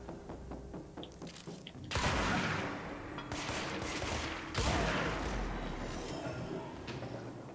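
Shotgun blasts in the video game Control: two heavy, booming shots about two and a half seconds apart, each with a long rumbling tail, over a continuous bed of game noise.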